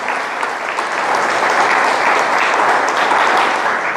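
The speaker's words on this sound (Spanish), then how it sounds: "Dele un aplauso al Señor." A church congregation claps together in praise to the Lord, a steady, dense wash of applause holding at full strength from start to finish with no voices above it.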